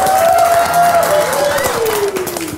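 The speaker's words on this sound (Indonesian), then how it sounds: "Kita kasih tepuk tangan dulu untuk bintang tamu kita." A studio audience on an Indonesian talk show claps and cheers to welcome guest stars Gary and Jessica, the loud applause running under a gliding voice or tone throughout.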